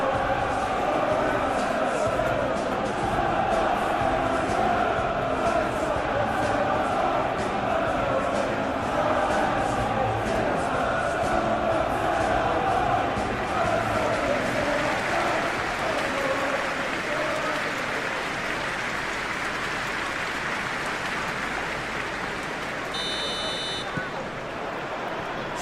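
A packed stadium crowd in the PES 21 football game, a Tottenham versus Manchester United Premier League match, keeps up a continuous loud roar and applause under commentators' talk throughout.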